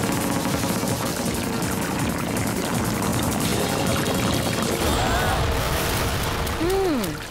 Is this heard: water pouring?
yes